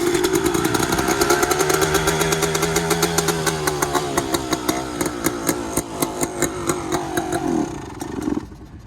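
A 2001 Honda CR250 two-stroke dirt bike engine starts and runs close by, its loud buzzing exhaust note revving and wavering continuously, with rapid firing pulses, before dropping off near the end.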